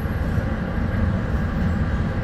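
Freight train passing a stopped Amtrak Pacific Surfliner passenger train, a steady loud rumble of rolling rail cars sustained close by for the whole stretch, no talking.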